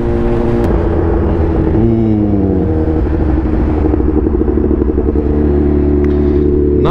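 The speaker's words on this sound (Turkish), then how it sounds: "Egzoz sesi olmasa daha güzel duyulur" Vehicle exhaust roars loudly at about 120 km/h, a constant heavy rumble with shifting engine tones and a pitch change partway, close and continuous without speech.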